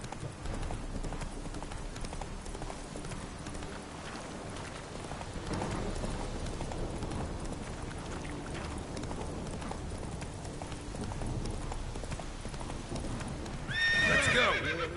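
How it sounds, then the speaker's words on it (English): Racing horses thunder along with clattering hoofbeats and a whinny near the end, the galloping steady and fairly loud throughout. "horses racing?"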